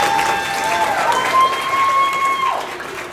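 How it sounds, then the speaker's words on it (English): Elementary school boys clap for themselves at an award ceremony, a steady crowd of hands filling the room, with a sustained whistle-like tone and some cheering voices over the applause. "do yourself a favor and clap it up for yourself"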